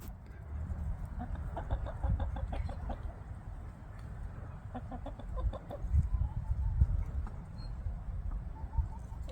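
Backyard chickens in a pen clucking in short repeated bursts, fairly close, over a low rumbling background with occasional human sounds.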